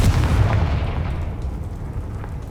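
The Confringo fire spell is cast in the Hogwarts Legacy video game, bursting out as a loud, deep explosive blast with a heavy rumbling tail that slowly fades.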